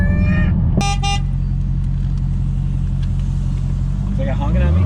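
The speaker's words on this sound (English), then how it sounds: "Is that guy honking at me?" A car horn honks in short repeated toots close by, over the steady low rumble of a Dodge Hellcat engine on wet pavement.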